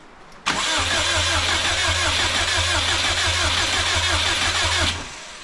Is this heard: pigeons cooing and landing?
no